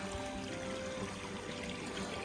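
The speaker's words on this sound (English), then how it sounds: "I just filled up my water bag out of this creek. It's flowing well." A flowing creek on the Appalachian Trail, a quiet, steady broadband rush of running water filling a water bag, continuous and soft throughout.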